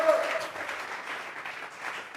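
An evangelical church congregation claps together in a dense, sustained wash of applause at moderate volume, with voices mixed in among the clapping.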